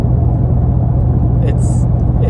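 A Camaro Z/28 drives with a steady, close low engine and road rumble that fills the whole stretch without a break; a short higher whine rises briefly near the end.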